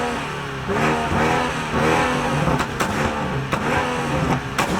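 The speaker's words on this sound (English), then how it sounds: "these people were just revving their cars" Modified cars leaving a car meet rev their engines hard nearby, loud pulsing blips and throaty roars rising and falling in quick succession with an exhaust crackle.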